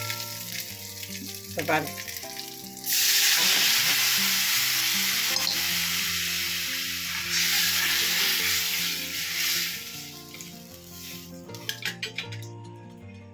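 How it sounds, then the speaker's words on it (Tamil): Crushed garlic sautés for rasam in a hot pan, a loud, steady sizzle swelling after the first few seconds, with scraping stirs and clinks of a spoon against the pan, and brief talk near the start and end. "இந்தமாரி பூண்டெல்லாம் நல்லா நசுக்கி விட்டு நல்லா வதக்கி விடுங்க."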